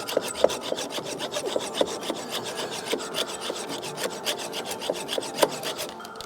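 A bolt is sawn through by hand with steady back-and-forth rasping strokes, close and continuous, with no voices over it.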